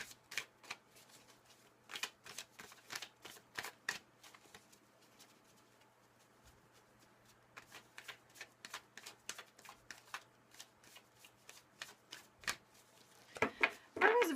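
Tarot cards are shuffled and drawn in repeated quick riffling bursts with small gaps between them. A faint background hum sits beneath, and a final dense flurry of card noise comes at the end.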